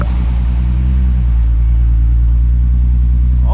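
MK4 12v VR6 Jetta wagon with a Remus muffler, a loud deep steady exhaust drone held at raised revs, close and continuous with no talk.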